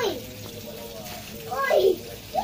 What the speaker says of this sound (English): The water is running.